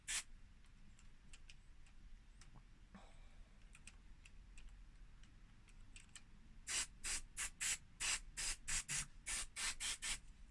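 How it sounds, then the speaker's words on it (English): Short hissing bursts from a spray can on a Ferguson FV41R, a quick run of about a dozen sprays near the end after quieter scattered clicks. "So just liberally spray it."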